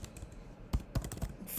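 Quiet, close typing on a computer keyboard while writing a Java program, a short run of uneven key clicks with a few heavier strokes and no talk.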